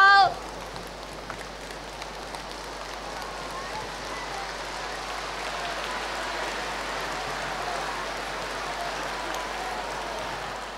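Warm, sustained applause from a large audience at a 2017 Buddhist question-and-answer gathering in Singapore, a steady rain-like wash of clapping that holds evenly for over ten seconds.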